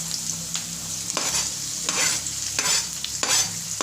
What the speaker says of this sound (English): Let's keep stirring. Let it turn brown.